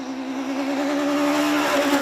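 A Ford Fiesta rally car in the B10 class at a BTRDA rally stage sounds close and loud, its engine holding a steady strained note with a slight rise toward the end, alone without voices.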